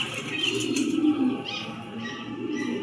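A racing pigeon coos repeatedly at close range, soft throaty calls rolling on over a steady hum of background noise.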